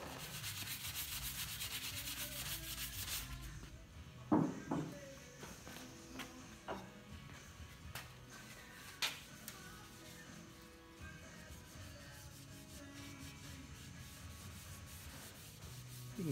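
Linseed oil is rubbed by hand into the wooden handle of a vintage Stanley brass hammer, making soft, quiet rubbing strokes and a few light knocks after a brief louder hiss at the start.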